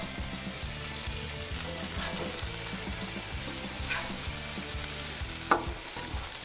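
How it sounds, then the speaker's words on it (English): Steady sizzle of smash burgers frying on a Blackstone griddle, a constant crackling hiss with occasional sharper pops, close and continuous with no talk. "Now, time to flip these burgers."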